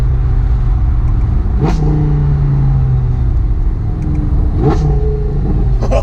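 Audi R8 V10 fitted with a full Capristo exhaust revs hard twice, each sharp blip rising and falling over a loud, continuous idling rumble close by.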